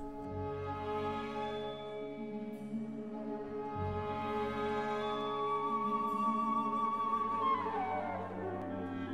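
Debussy's La Mer performed by an orchestra, soft sustained harmonious chords with layered strings and winds swelling gently, playing alone without voices.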